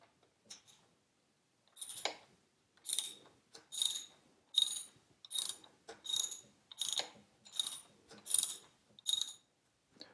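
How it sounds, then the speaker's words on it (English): A ratchet clicks in about ten even bursts while loosening a screw in the top yoke of a Royal Enfield Interceptor 650, each stroke a close, crisp rattle separated by short quiet pauses. "Now I'm going to loosen the screw in the top yoke"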